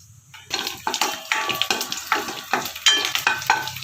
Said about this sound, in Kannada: ಎರಡು ಸ್ಪೂನು ಎಣ್ಣೆ ಫಸ್ಟು ಬೆಳ್ಳುಳ್ಳಿ ಹಾಕೋಣ ಸ್ವಲ್ಪ ಚೆನ್ನಾಗೆ ರೋಸ್ಟ್ ಮಾಡ್ಕೊಳೋಣ